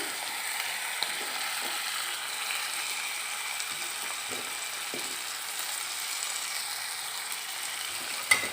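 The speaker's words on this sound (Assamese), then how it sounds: "ইয়াতে মই এতিয়া ঢালি দিম বিলাহীখিনি কাটি থোৱা আছিলে" Chopped tomatoes frying in a pan with boiled potatoes for pasta, a steady hissing sizzle throughout with faint occasional stirring clicks, close and quiet, no talk.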